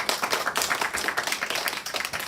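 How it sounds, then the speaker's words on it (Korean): Brisk applause from a small audience at a book launch talk on uprooting prostitution, steady overlapping claps heard close and fairly loud throughout the short stretch. "다시 한번 박수를."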